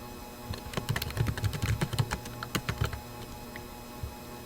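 Fast keystrokes on a computer keyboard as a password is typed, a dense burst of clicks over about three seconds before trailing off to a couple of isolated taps; no one speaks.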